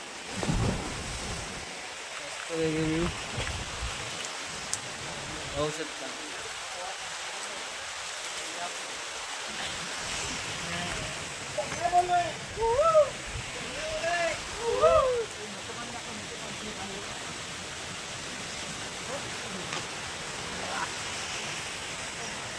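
River water at a bathing spot rushes in a steady broad hiss throughout, with a voice talking over it in short bursts and briefer talk near the end.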